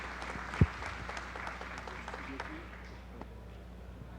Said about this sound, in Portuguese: uma salva de palmas para esse nosso amigo